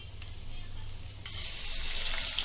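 Onions frying in ghee in a pan for khichdi, a bright steady sizzle that swells louder partway through as they hit the hot fat, with low kitchen rumble underneath.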